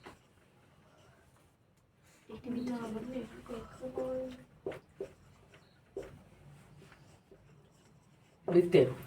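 Pen or chalk scratching out a geometry proof on circle angles, with short irregular strokes and taps spread across the clip, mixed with brief bursts of talk.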